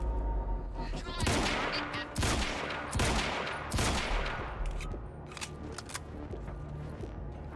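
Loud gunfire in Quantum Break's sniper fight: a dense fusillade of sharp cracks and bursts repeats through the scene, with sustained rattling reports and a heavy low rumble underneath.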